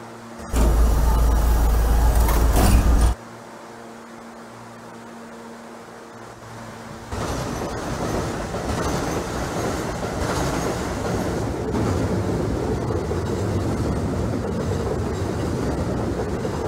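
Simulated NYC subway A train from Trainz Simulator 2012 runs steadily, a loud tonal burst at the start giving way to a continuous rolling rumble of the moving train with faint rhythmic rail noise.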